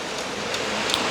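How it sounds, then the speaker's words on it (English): Heavy rain pours steadily in Burger Gully, a dense, even hiss of falling water with no voices or other sounds over it. "we have like 2 hours of rain today"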